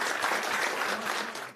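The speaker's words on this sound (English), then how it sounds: "let's give them both a big round of applause just to kick this one off" A conference audience in Amsterdam breaks into warm, dense applause, many hands clapping steadily and fairly close before tapering off at the end.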